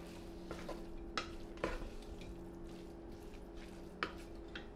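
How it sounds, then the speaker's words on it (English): Garlic cooks gently in a pot for lasagna soup as a spoon stirs it, making quiet, faint scrapes and light knocks over a low background hum. "Stir it some more."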